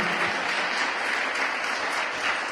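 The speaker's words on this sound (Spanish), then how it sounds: "dele un aplauso al Señor" A congregation at a church sermon claps in sustained applause for the Lord, an even, continuous patter of many hands at moderate loudness, heard on its own without voices.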